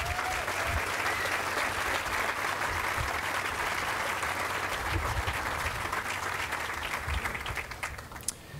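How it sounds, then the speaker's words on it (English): A large crowd applauds at a new stadium groundbreaking ceremony, steady dense clapping sustained for several seconds and fading slightly toward the end, with no talk over it. "Can you give them a round of applause?"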